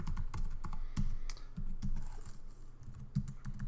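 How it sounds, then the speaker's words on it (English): Quick, steady typing on a computer keyboard, with dense, close, light key clicks and no talk. "type in the same values"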